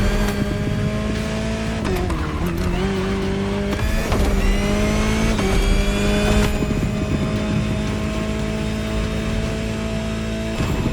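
The Jaguar C-X75 hypercar in The Crew Motorfest gives a loud, close, sustained engine roar with rising revs, several sharp gear shifts and a hint of tire squeal, with no voice over it.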